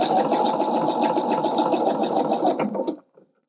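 A sewing machine stitches fabric in one fast, steady, close run of needle clatter for about three seconds, then stops abruptly, leaving near silence.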